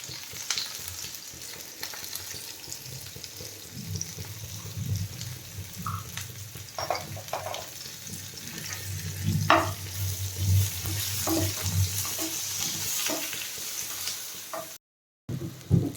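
Onion and garlic frying with salt in a pan, a soft sizzle under intermittent stirring scrapes and knocks, with a low rumble swelling in the middle and a brief silent gap near the end.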